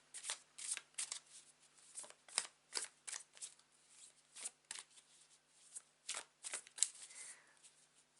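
Tarot cards shuffled by hand close up, a steady run of quick, soft riffling snaps in uneven rhythm, quiet and alone.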